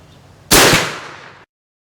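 An AirForce Texan big-bore airgun fires a .458 325-grain round at a target: one sharp, loud crack that decays over about a second before silence.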